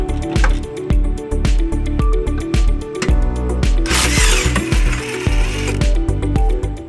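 A power tool spins a 14mm socket to back out tow loop bolts on a 2007 Toyota Highlander, giving a steady loud whirring and clattering with short bursts of mechanical rattling throughout.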